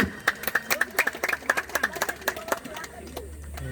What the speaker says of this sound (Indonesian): Beri aplaus yang paling meriah untuk tim Peking FC dan Katanski